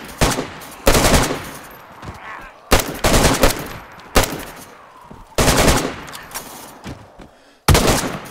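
Gunfire in the video game DayZ: repeated loud, close bursts of automatic fire at irregular intervals, each trailing into echoing decay, with no talking.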